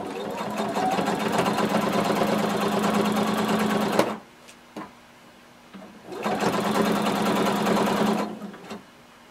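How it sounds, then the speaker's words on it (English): A sewing machine runs steadily stitching a garment seam, a loud close whirring buzz in two long bursts separated by a brief pause with small clicks. "we're just going to sew until we reach the existing stitching line"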